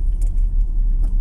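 Heavy traffic rumbles past on a roadside, a large truck passing close with a deep, steady low roar and faint rattling, no voices.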